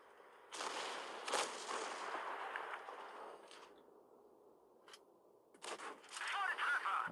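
Tank gun shots in a tank video game featuring a Tiger II, a series of loud, close blasts with crackling tails, spaced apart and separated by a brief quieter gap.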